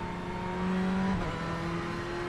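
Ferrari 488 GTE race car engine in the iRacing simulator at Spa-Francorchamps, a steady loud drone with a shifting pitch that dips and rises mid-clip, heard alone without talk.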